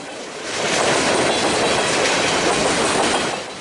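Train wheels roll over steel rail joints on a local freight turn, giving a loud, continuous rumbling rush with rhythmic clickety-clack, close by, swelling in and fading slightly over a few seconds.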